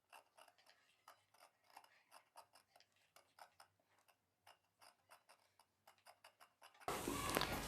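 Scissors snip away an extra piece of fabric after a curved back neck seam is stitched, giving faint, rapid clicking cuts close by, followed by a sudden burst of loud noise at the end.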